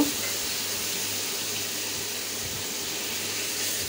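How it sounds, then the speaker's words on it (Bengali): Water poured into a pan of shol fish bhuna curry with onions, a steady broadband gush and splash running evenly throughout, fairly close with no talk over it. "এই যে আমি একটু পানি দিয়ে দিতেছি।"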